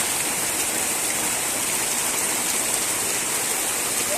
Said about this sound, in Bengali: কি প্রচন্ড বৃষ্টি হচ্ছে, দেখো দেখো কিরকম বৃষ্টি